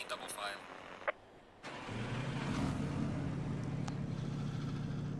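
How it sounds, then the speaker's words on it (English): Race car engine in Assetto Corsa Competizione at the Nürburgring, a brief starter whir followed by the engine catching and settling into a steady, loud idling drone, with a voice briefly talking near the start. "we'll want to hear the lovely noise of when these cars start up"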